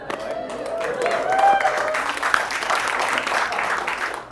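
Audience applause at a Diwali function talent competition, a steady wash of clapping filling the room for several seconds with voices mixed in underneath.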